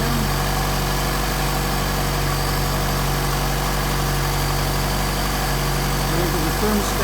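Mercedes 190SL engine fitted with Solex 44PHH carburetors idling steadily and loudly close by, an even rumble with no surging and a brief voice near the end.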